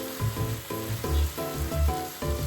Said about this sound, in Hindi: बढ़िया से भून देती हूँ।